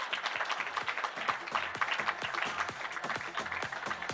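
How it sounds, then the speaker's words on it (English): Moderate crowd clapping at an awards event, a lively rhythmic patter of many hands heard at middle distance, with a faint murmur of voices beneath. "a wonderful applause to him for putting this together today"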